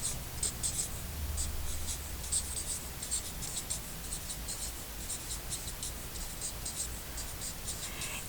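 Pen or pencil scratching on paper while numbers are written by hand, a close, quiet, steady series of short strokes with no talking.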